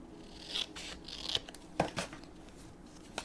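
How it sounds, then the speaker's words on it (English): Scissors snip close by as they trim a paper envelope, giving a few short cutting crunches with light paper rustling between them, quiet and without speech. "I need to trim it a little bit more."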